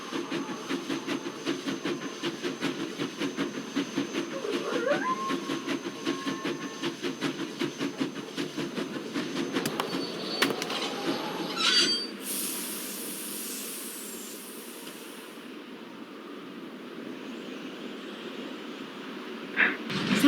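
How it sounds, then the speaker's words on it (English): A train departs the station in a Nancy Drew video game: a steady rhythmic clickety-clack of rail cars rolls along with hissing steam, then a sharp high hiss bursts out near the end as the rumble settles, no talk over it. "Sounds like the train's leaving."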